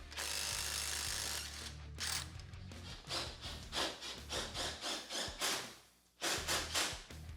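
A hand ratchet loosens a suspension nut on a Yamaha Drive 2 golf cart. A steady mechanical whir comes first, then a run of rapid, evenly spaced ratchet clicks in quick strokes. It sounds close and has no voices.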